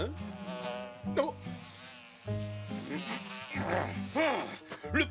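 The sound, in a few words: fly buzzing in cartoon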